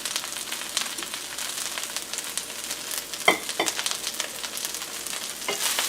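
Dandelion greens sautéing in olive oil in a pan, a steady close sizzle and crackle with scattered pops and one sharper clatter of stirring, no talk.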